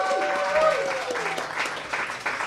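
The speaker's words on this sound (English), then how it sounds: "give a big round of applause to our coach, Coach John Perry." A crowd at a high school football booster club coaches show claps for the coach in a steady patter, while a voice talks over the start of the applause.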